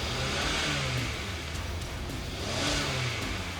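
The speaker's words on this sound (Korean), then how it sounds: "엔진 출력을 올려볼 건데 괜찮은지 한번 체크를 해볼게요." A Hyundai Grandeur HG sedan's engine revs up near the microphone, swelling in two broad surges with a smooth rise and fall of pitch and no talk.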